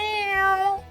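A cartoon house cat gives one clear, close meow, a smooth tonal cry lasting under a second with no talk around it.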